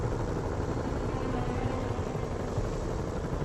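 A helicopter hovers over the city in the Marvel's Spider-Man video game, its dense, steady rotor and engine rumble staying loud and continuous with no voices.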